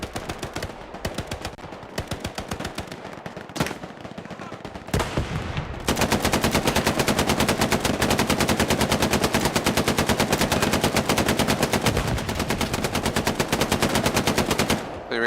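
Gunfire in the World War II shooter game Hell Let Loose: scattered single shots and short bursts, then sustained rapid machine-gun fire hammering loudly and continuously for many seconds.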